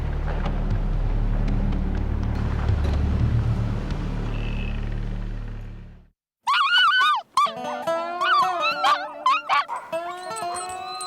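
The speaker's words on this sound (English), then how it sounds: "The working dogs of the Arctic, like the Siberian Huskies with their thickly furred double coat" Siberian Husky sled dogs of the Arctic howl and whine together in a clear, tonal, wavering chorus. The first half is covered by a loud steady engine-like rumble, which drops out before the dogs come through plainly.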